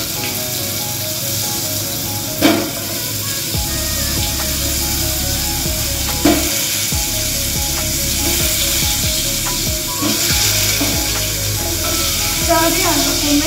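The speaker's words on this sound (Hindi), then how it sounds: "आलू को मैं इसमें फ्राई कर लूँगी" Potatoes fry in hot oil in a pan for Kolkata-style mutton biryani, with a continuous close hiss and a few sharp clanks from handling, while music plays underneath.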